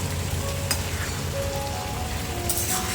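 Momos sizzle while being stir-fried and tossed in a pan, a steady close frying hiss with a couple of brief sharper clatters of stirring, no talk.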